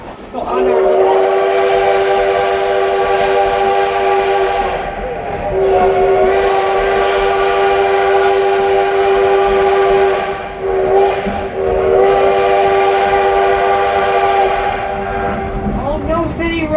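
Locomotive number 7 leaving Hill City sounds a long, loud, steady horn blast close by, held with only brief dips and breaks over a rumbling rolling train.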